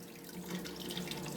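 Water runs steadily from a tap into a washing tub, a continuous splashing flow at moderate level with no voices.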